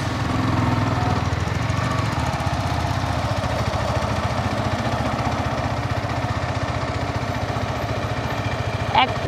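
A motorbike engine drones steadily at close range on a seaside ride at Kuakata, a continuous rough throbbing roar with wind-like rumble beneath it, unbroken for the whole stretch.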